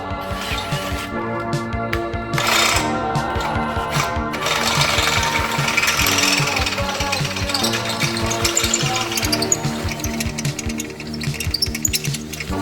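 Bolt holes in a Land Rover Defender 90 NAS-style rear bumper being enlarged with a power tool: a loud, continuous rattling, hammering chatter of metalwork, close up and steady throughout, with no voices.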